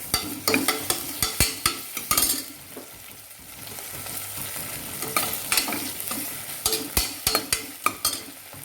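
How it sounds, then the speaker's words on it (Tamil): Crushed ginger sautéing in a pan, a soft continuous sizzle broken by repeated sharp scrapes and knocks of a spoon against the pan in an uneven rhythm. "இப்போது தட்டி வச்சுருக்க இஞ்சியை போட்டுக்கலாம். மறுபடியும் ஒரு வதக்கலாம்."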